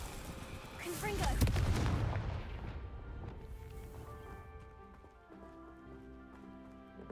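A Confringo blasting spell in the Hogwarts Legacy video game lands as a sharp, booming explosion early on, followed by a rumbling tail that fades under tonal game sounds and background music.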